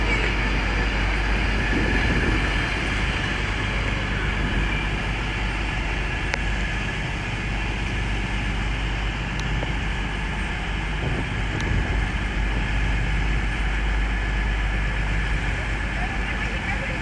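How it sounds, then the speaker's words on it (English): Avanti West Coast London Euston to Glasgow Central service pulling out of Stafford station on the West Coast Main Line, a steady, loud rolling rumble throughout, with a voice faintly audible over it. "Also now leaving is the Avanti West Coast service from London Euston to Glasgow Central."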